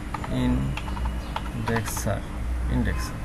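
A Magento indexer command is typed on a computer keyboard as a quick run of close keystroke clicks with irregular rhythm, while someone speaks over it.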